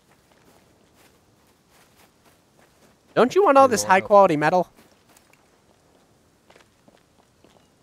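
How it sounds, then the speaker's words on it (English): Running footsteps in the game Rust, faint and quick, continue steadily across the clip as they fade, with a voice talking briefly over them midway. "This is the sound of me running away."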